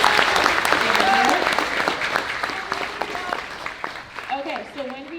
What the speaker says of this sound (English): let's give a round of applause, please, for our guests